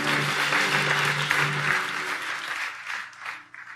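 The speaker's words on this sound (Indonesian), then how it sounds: "Kasih tepuk tangan yang paling keras." A church congregation claps loudly during a Sunday service, dense applause over a sustained low musical tone that fades out and thins toward the end.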